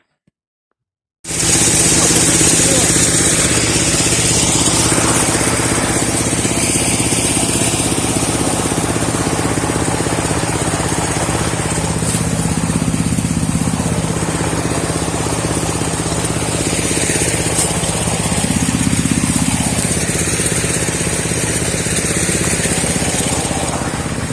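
Auger branch shredder chipping dry larch wood, a loud continuous engine drone with grinding crunches rising at intervals, starting abruptly after a brief silence and running steadily to the end.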